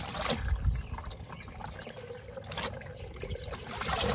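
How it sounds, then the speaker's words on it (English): Water draining out of a Rovsun portable washing machine, a steady close gurgling rush with bubbly trickling throughout. "I just turn the knob to let the water drain out."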